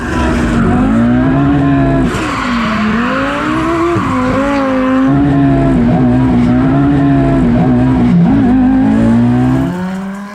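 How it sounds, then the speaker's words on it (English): A loud rally car engine revs and howls with shifting pitch as tires squeal and skid while drifting sideways, continuous and close. "what would a Ken Block clip be without some wild sideways action?"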